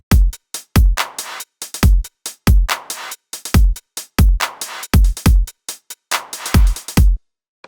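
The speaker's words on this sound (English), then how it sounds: "use the pre-delay time on a reverb to create a really cool clap effect" A sequence of punchy electronic claps in a driving rhythm, each followed by a short gap and then a reverberant wash from reverb pre-delay in Ableton Live, with no talking.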